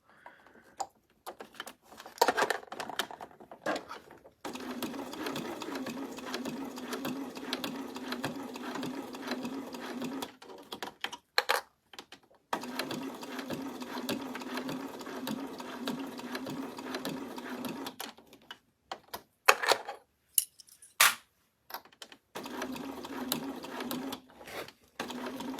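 Sewing machine stitching a fabric unicorn bag with a magnetic snap, running in several long steady bursts separated by short pauses and handling noises, close and moderately loud.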